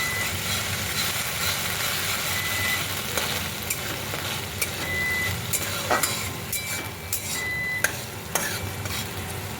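Ginger paste and green chili paste fry in a pan with a steady, close sizzle, broken by scraping stirs and a few sharp clicks of a spatula against the metal.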